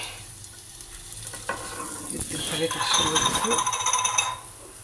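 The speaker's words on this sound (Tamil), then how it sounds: "இது மாதிரி நைஃப்லேயே திருப்பி விட்டுக்கலாம்." Halved boiled eggs coated in chili powder sizzle in oil in a pan while a knife scrapes and turns them, the frying swelling louder midway with clicking scrapes, then settling.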